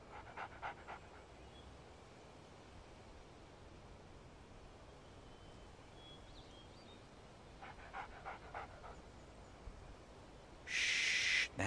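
A dog in the video game Alan Wake pants in short, soft bursts, a few quick breaths near the start and again later, faint over a quiet, hissy background, with a louder noisy burst near the end.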